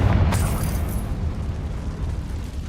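The Confringo spell explodes in the Hogwarts Legacy video game: a loud, sudden blast that quickly fades into a rumbling, crackling tail, with no voices.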